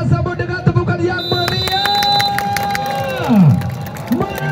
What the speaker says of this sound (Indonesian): Kita sambut dengan tepukan yang